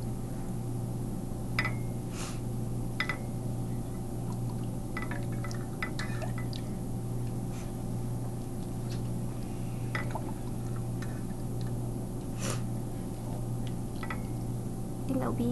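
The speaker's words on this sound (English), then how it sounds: "Now Jennifer's going to add some liquid soup into the noodle." Liquid soup ladled onto bean thread noodles, a steady pouring trickle with scattered drips and soft clinks, continuous throughout under a constant low hum.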